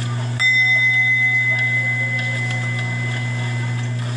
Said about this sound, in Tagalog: inilabas ni Alex ang kaniyang Tibetan bell bilang depensa.